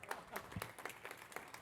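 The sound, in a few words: spontaneous audience applause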